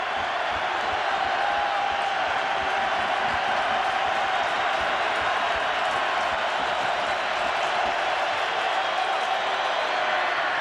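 A football stadium crowd at a 2006 Bengals vs Ravens game cheers steadily for a shutout, a dense, continuous roar of many voices filling the whole stretch at a constant level.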